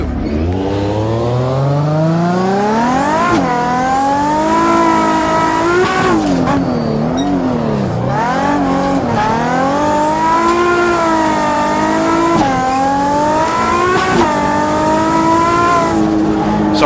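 In a racing video game, a car drifts with its tires squealing. The loud engine revs rise and fall again and again with the lift-and-throttle inputs, and a high tire squeal rides on top of the revs for the whole stretch.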